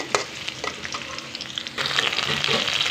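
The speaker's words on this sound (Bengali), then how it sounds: "পেঁয়াজটা একটু ভাজা ভাজা করে দিচ্ছি" Chopped onions frying in a pan with radhuni seeds, a loud, close, continuous sizzle with stirring scrapes, growing denser and louder partway through as they are stirred, with no speech.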